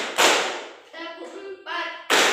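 Two sharp, loud hand claps from a group of children in a classroom, separated by an adult voice counting aloud between them.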